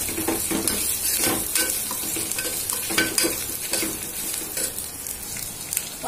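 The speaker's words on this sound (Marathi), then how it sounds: "आता आपण याला 1/2 मिनिटभर परतून घेऊया." Carrot slices and beans sizzle steadily in hot oil in a pan for veg biryani, with continuous frying crackle and repeated spatula scrapes as they are stirred, close and without talk.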